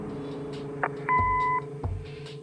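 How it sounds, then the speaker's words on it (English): An answering machine in the Kathy Rain video game gives a single short electronic beep, clear and close, set against a faint room hum with a couple of small clicks before and after. "Leave a message after the beep."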